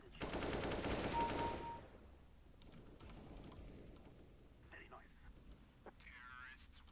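Rapid automatic sniper rifle fire in a video game, a loud burst of fast repeated shots lasting under two seconds, followed by quieter clicks and faint game sounds with a voice speaking.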